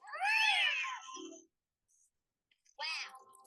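Two drawn-out cat meows, close and clear, separated by a stretch of near silence.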